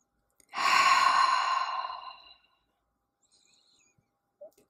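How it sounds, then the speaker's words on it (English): A single long, deep exhale out through a calm guided meditation, breathy and close, swelling quickly then fading over about two seconds, followed by near silence. "Taking a deep breath in through the nose and one last big exhale out."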